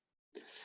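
A single abrupt sneeze during a Talmud lesson: a brief hush, then one loud, breathy, close burst that trails off.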